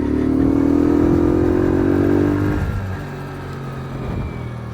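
A 50cc moped rides along a road in France, its small engine droning steadily at close range, pitch rising then easing off as it slows, with no one talking.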